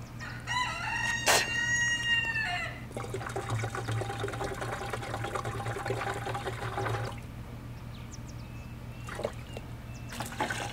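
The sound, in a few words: rooster crowing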